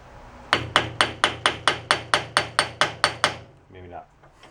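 A hammer taps a pulley off a board track motor bike, about a dozen evenly spaced, sharp metallic blows in quick succession, loud and close, followed by a brief clatter.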